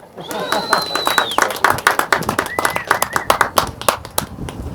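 Outdoor audience applause at an elementary school replacement groundbreaking ceremony on a chilly day: a crowd clapping steadily for several seconds, close and fairly loud, with whistles and cheers rising over it.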